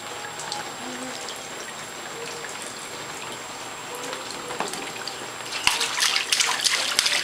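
Water trickles and pours steadily at close range, a continuous splashy wash that grows busier and louder toward the end, with faint voices in the background.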